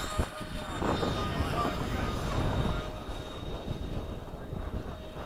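F-5 jet aircraft taking off in formation at an air base, a broad rumbling roar with a whining high tone, steady and fairly distant, with voices nearby.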